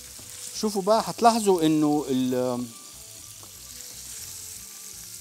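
Sausage and meat frying in a pan, a soft steady sizzle underneath someone talking, carrying on quietly after he stops.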